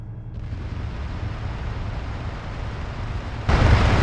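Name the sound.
explosions after launched charge lands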